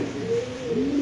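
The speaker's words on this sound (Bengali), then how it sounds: "একটু সময় আমরা দেখাচ্ছি কবুতরের ডাকটা একটু দেখা যাবে ইনশাআল্লাহ আপনাদের" A domestic pigeon at a pigeon farm coos in a steady, low throaty rolling call that lasts about a second, close and clear with no voices.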